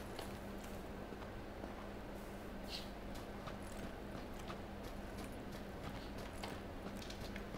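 Running footsteps in PlayerUnknown's Battlegrounds, a steady quiet patter of repeated steps with a low hum beneath, continuing evenly throughout without any talk.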